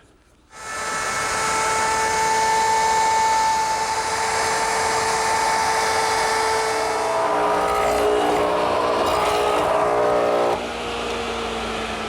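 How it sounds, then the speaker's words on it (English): A router fitted with a 3/8 inch radius roundover bit shapes the edges of an outdoor patio tabletop, giving a loud, steady high-pitched whine that holds for about ten seconds, then the pitch shifts and a quieter run follows near the end. "I'm using a 3/8 inch radius roundover bit. I'm going to round over the top and the bottom edge."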